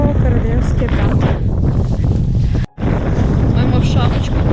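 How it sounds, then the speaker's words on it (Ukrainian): Strong cold wind roars and buffets a nearby microphone on Menchul in the Carpathian mountains, steady and loud, with a brief dropout partway through and voices faintly audible beneath. "Бо холодно, вітер холодний."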